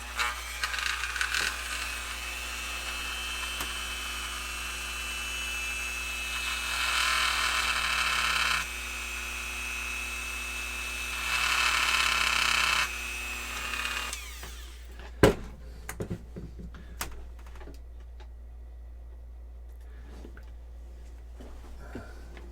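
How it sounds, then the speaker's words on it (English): A small electric drill whirs steadily at a hobby bench while miniatures are being worked on, its tone swelling louder in two stretches before it stops abruptly, followed by a few sharp clicks and clatters in a quiet room. "All right, turn my drill on."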